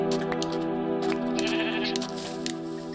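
Minecraft sheep bleat in a drawn-out, wavering cry over a steady droning hum, with a few sharp clicks scattered throughout.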